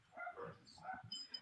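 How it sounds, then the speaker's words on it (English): A dog barks faintly in the distance, giving a few short, soft barks or yips within a quiet background, with no clear speech over it. "You can hear him right now barking."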